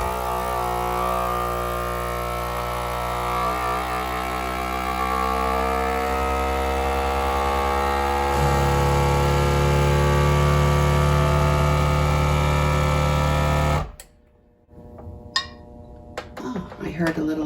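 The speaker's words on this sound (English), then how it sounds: "Now press vacuum seal." FoodSaver vacuum sealer with a jar attachment drawing air from a jar of nuts: a steady motor whir and hum lasts about fourteen seconds, then cuts off abruptly, leaving a few faint clicks and handling sounds.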